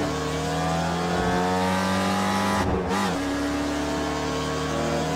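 A racing car's engine revs loudly and steadily as the driver downshifts two gears into second for a chicane, with a brief dip in the engine note partway through before it pulls hard back up to speed.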